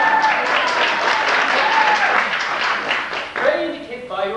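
At a performance of The Mystery of Edwin Drood, a theatre crowd gives sustained applause, dense clapping that eases slightly toward the end as a voice rises over it.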